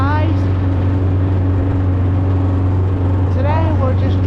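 Steady engine hum and road noise from inside a car on a short drive to a mailbox, a constant low drone throughout with brief higher tonal sweeps near the start and end.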